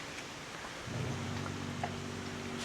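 Steady rain falls near a motorhome during a trip through Alsace, with a low rumble of distant thunder building under the hiss, and no speech.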